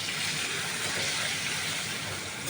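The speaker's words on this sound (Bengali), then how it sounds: "আর অল্প পরিমাণে একটু জল দেব, খুব বেশি জল দেবো না" Water is poured into a potato curry as it cooks, making a steady gushing, splashing wash that holds at an even loudness throughout without a break.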